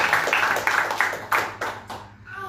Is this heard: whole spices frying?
no